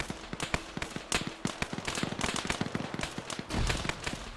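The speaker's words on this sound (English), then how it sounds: "And it explodes because I heard some PTRS rounds go into it." In an Arma 3 battle, PTRS anti-tank rifle rounds strike a Jeep until it explodes, heard as dense, rapid cracks and pops of gunfire with a heavier boom near the end.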